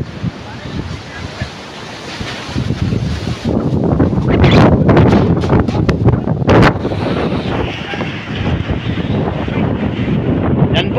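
Strong Typhoon Tino wind batters an island by the sea, roaring gusts and surf that build and buffet the microphone, loud and continuous with gusty surges.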